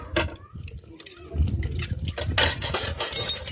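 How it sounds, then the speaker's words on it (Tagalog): Water sloshes and drips with clinking dishes and glass in a sink, a steady wet washing sound with occasional louder splashes. "Hugas muna ako sa pinggan."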